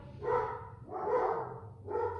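Dogs bark during a home vinyasa yoga session: three moderately loud barks, evenly spaced, with a quiet room behind them.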